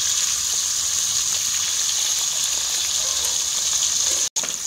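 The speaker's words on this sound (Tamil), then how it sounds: "இது ஒரு 2 நிமிஷம் விட்டிங்கன்னா மீன் வந்து நல்லா ஃப்ரை ஆகிடும்." Murrel (viral) fish pieces frying in hot oil in a pan, giving a steady loud hiss and sizzle throughout with a brief dropout near the end.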